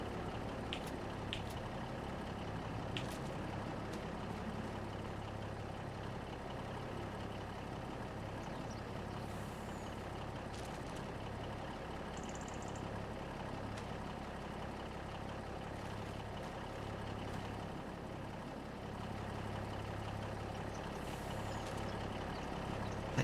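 Truck driving in the Farming Simulator 25 video game, a steady low engine drone that holds evenly throughout with faint brief clicks and hisses over it, no talking.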